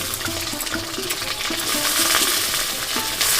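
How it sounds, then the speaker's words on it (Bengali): Steady, loud sizzling of eggplant frying in hot oil, with occasional scraping from stirring, continuous throughout and no voices. "এবার আমি বেগুনগুলো আগে ভেজে তুলে নেবো"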